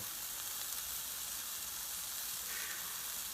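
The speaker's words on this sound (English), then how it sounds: "take a look at that burger. Toasting up in that pan, ready to go." Bacon cheddar Funyun cheeseburger sizzling in a frying pan, a continuous fine crackling hiss, close and steady with no talking.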